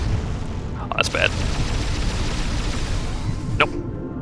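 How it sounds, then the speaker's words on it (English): An explosion in Metroid Prime, played through PrimeHack, roars as a loud, continuous rumble with sharp bursts near the start and again toward the end. "The explosion actually stunned me and filled up the corruption of it."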